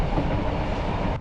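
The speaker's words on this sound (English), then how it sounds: "Oh, there's a train." A train rumbles past close by, a steady heavy roar of wheels and carriages with faint rhythmic clatter, no voices.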